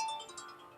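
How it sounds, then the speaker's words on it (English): A short electronic ringtone chime plays quietly, its bright tones fading quickly with no voices around it. "Well, that was my alarm in case I went to sleep."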